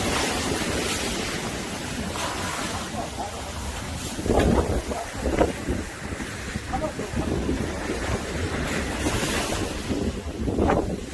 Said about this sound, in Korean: 예, 파도가 다 메우고 있습니다.